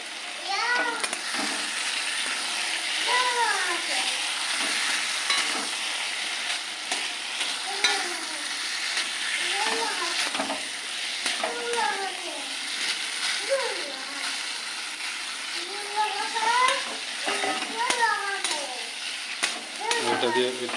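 Grated boiled potato is stirred and sautéed with spices in hot oil for an omelette curry, giving a steady close sizzle with soft stirring scrapes beneath faint high chirping and voices in the background.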